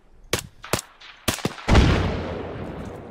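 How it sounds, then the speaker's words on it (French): Gunfire in the Arma 3 military game: a few sharp, separate shots ring out, then a heavy grenade blast booms and rolls off in a long fading rumble. "Je balance une grenade."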